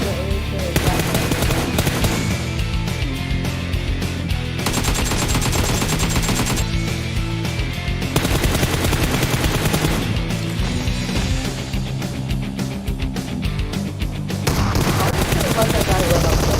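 Rapid automatic AK rifle fire from the mobile battle royale game PUBG Mobile during a tournament match, loud continuous bursts packed with shots and booms over a dense game soundscape across the whole stretch.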